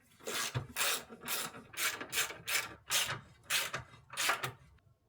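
A ratchet wrench clicks in repeated bursts while bolts are torqued down during power steering rack and sway bar work on a Subaru, about eight evenly spaced rasping strokes, close and fairly loud with no talk.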